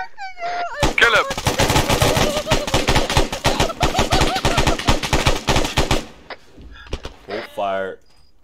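Video game gunfire in Arma 3: a dense, rapid burst of shots rattling continuously for several seconds, loud and close, with excited shouting from players over and around it before it cuts off.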